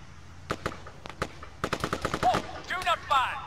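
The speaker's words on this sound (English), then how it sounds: "I'm not even sure what he's firing at right now." Rapid bursts of rifle and machine-gun fire from a soldier in the military video game ARMA 3, with sharp cracks in quick irregular volleys, some close and some distant, while voices talk over them.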